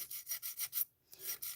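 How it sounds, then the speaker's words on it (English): A plastic model kit part from an Italeri 1:48 V-22 Osprey engine assembly is sanded by hand in quick, faint, rhythmic rasping strokes, with one short pause before the rubbing starts again. "Now to take 20 years sanding this piece off."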